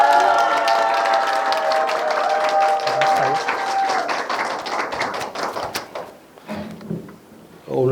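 An audience claps loudly and continuously to welcome a speaker at a talk during an arts festival, the applause thinning and fading toward the end as a few voices come through.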